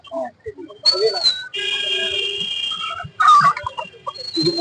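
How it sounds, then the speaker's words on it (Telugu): Country hens cluck and squawk at a busy poultry market, giving sharp close calls and drawn-out whistling cries in several bursts, with little talk. "ఇది నాటు పెట్ట"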